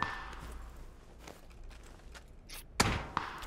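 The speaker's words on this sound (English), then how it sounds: "This guy's shooting my house?" Gunfire strikes a house in the battle-royale video game PUBG, heard as a sharp, loud impact near the end followed by a smaller second hit, over a quiet ambient bed.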